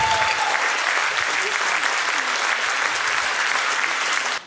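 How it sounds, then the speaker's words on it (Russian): A concert audience gives loud, sustained applause for a jazz orchestra at a gala concert, many hands clapping in a thick, even roar that carries on evenly before cutting off abruptly at the end. "Джазовый оркестр, ваши аплодисменты."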